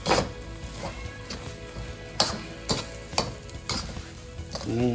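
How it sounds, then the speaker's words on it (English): Green onion stirred into chicken fried rice in a pan: steady sizzling frying with several sharp spatula scrapes and knocks at irregular intervals, close by and fairly loud, with no talking. "Stir and serve immediately"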